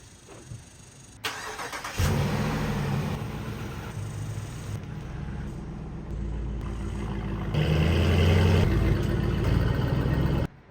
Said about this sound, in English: I think I'm gonna flip the Durango around.